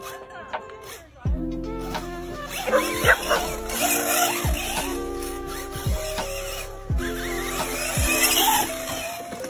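A dog whimpers and yips in short, high whining bursts close by, mixed with a buzzing remote-control car motor and other clutter.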